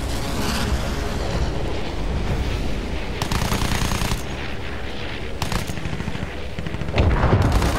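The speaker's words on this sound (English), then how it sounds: "Let's see if we can shoot these Fokkers down." Rapid machine gun fire rattles in long, loud bursts against German Fokker triplanes in the World War I video game Battlefield 1, layered over heavy engine drone and booming explosions, with brief pauses between volleys.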